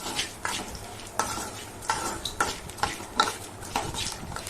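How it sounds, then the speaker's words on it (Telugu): Roasted gram dal being fried and stirred in a pan, repeated scraping strokes of a utensil with a soft sizzle underneath, close and fairly loud, no talk. "పుట్నాల పప్పును కూడా కొంచెం వేయించుకోవాలి"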